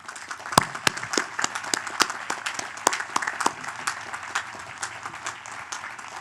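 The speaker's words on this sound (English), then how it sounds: "please join me in a round of applause to say thank you to our physical plant" Sparse, distinct claps from a small group at a college commencement, individual sharp hits spaced irregularly over a light wash of quieter clapping.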